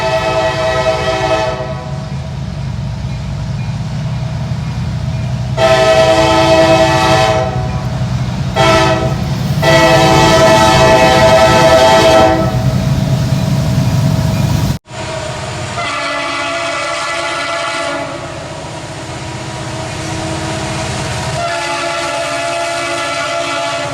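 A CSX SD70MAc diesel locomotive sounds its K5LA air horn in several loud chorded blasts of varying length over the rumble of the engine and passing train.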